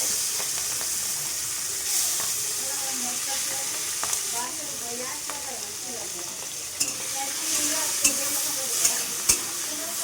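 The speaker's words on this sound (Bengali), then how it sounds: "এবার চিংড়ি মাছগুলো ভেজে নেব" Prawns frying in hot mustard oil in a wok, a steady crackling sizzle with occasional sharp spatters and stirring knocks across the clip.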